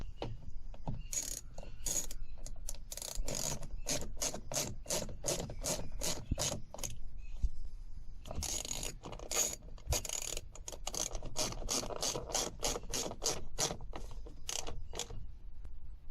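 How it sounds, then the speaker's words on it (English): Bolts are driven into the window regulator of a Smart car with a fast series of sharp ratcheting clicks, close and fairly loud, in two long runs separated by a brief pause, with no voices. "And then screw in your 2 bolts."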